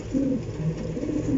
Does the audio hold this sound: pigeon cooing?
yes